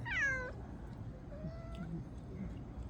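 A street cat gives one loud, rising-and-falling meow close by, followed by fainter, softer mews while someone murmurs quietly in the background.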